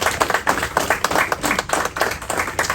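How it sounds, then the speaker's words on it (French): A small press-conference audience claps in brisk, uneven bursts, individual hand claps audible within a moderately close round of applause lasting a few seconds. "Merci Jérôme, je pense que vous pouvez l'applaudir."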